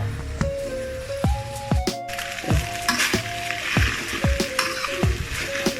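Rice vermicelli is broken up and stirred with a utensil in a hot pan with green onion, giving sharp scraping knocks at irregular intervals over a continuous close sizzle.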